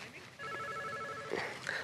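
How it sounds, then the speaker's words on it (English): A mobile phone ringing at an event, its repeating electronic ringtone faint in the background beneath nearby voices and room noise. "That's my phone ringing."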